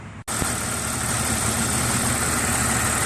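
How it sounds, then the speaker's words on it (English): A 2000 Jeep XJ engine idles steadily up close just after a power steering pump reservoir replacement, a continuous low rumble that starts after a brief gap and runs unbroken with no talk. "Alright, so the Jeep's back up and running."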